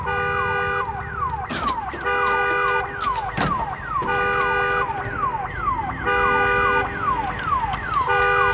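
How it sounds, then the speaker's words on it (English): In the Days Gone video game, an alarm siren wails loudly and continuously in repeating rising-and-falling sweeps, with a few sharp thuds and clanks mixed in and no talking. "Damn alarm."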